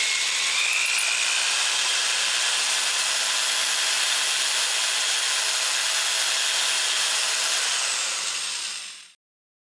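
A drill bores a hole in wood for a birdcage awl, a loud, continuous high whirring grinding steadily for several seconds before cutting off abruptly.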